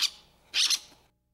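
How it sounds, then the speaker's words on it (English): A ringtail gives a threatened call: two short, sharp, high-pitched squeals or squawks, the first brief and the second longer and wavering, heard close and alone before quiet. "That's the sound of a ringtail."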